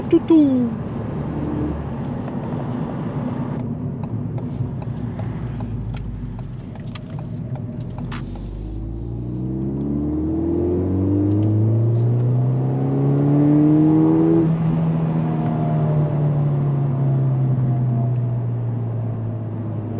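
A Ford Fiesta ST200 turbo engine accelerates, its rising and falling rev tones sweeping upward through the gears with a steady turbo whir, heard from inside the car and loud throughout.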